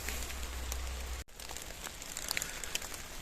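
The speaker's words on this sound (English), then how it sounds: "the rain is still going on" Steady rain falls outdoors as a dense, continuous patter with scattered louder drops, briefly cutting out for a moment before resuming at the same level.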